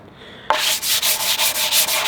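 Hand sanding on a wooden kitchen tool begins abruptly, then continues as loud, rhythmic back-and-forth rasping strokes, close up, with no talking.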